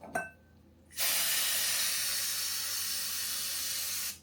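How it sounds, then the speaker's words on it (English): A brief click, then a loud, steady hiss of brake cleaner spray on transmission PTO pump bearings, continuing for about three seconds before cutting off, close to the microphone, indoors. "Spraying brake clean in my house."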